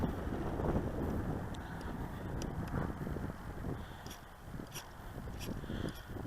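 Wind gusting across a microphone outdoors at a park where a model aircraft is being flown, a steady low rumbling buffet with brief higher whistles, continuous and close throughout.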